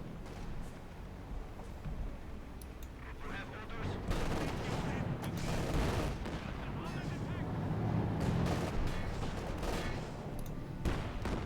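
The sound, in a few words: gunfire in Company of Heroes 2 video game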